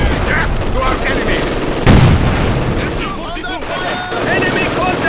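Small arms gunfire from a Company of Heroes 2 battle rattles in bursts amid a loud, busy war soundscape, with a heavy boom near two seconds and soldiers shouting over the fighting.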